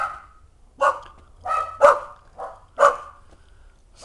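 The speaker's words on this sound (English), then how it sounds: "Well, I guess the neighbors have dogs." Dogs barking in a neighbor's yard next to a house in Calexico, five or six sharp, moderately close barks spaced irregularly about half a second apart, with no talking.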